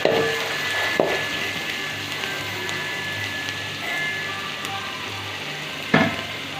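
Onions sautéing in a pan for coconut rice, a soft continuous sizzle with light crackling and a couple of sharper clinks of a utensil against the pan, no talking.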